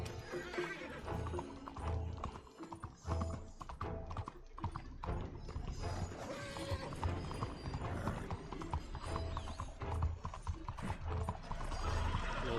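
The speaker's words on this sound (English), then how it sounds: "No sé quién será este caballo" Horse hooves clip-clopping in Red Dead Redemption 2, a steady rhythmic trot under game music, mechanical clatter and a whinny, with brief voices in the mix.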